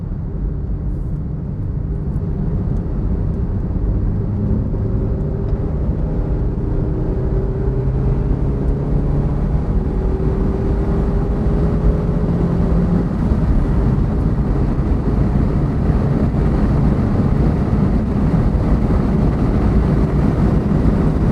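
A cheap, bodged Mazda on poor tyres at a Japfest track day drives at speed, with a steady loud engine drone, tyre roar and wind buffeting that rise slowly as it accelerates.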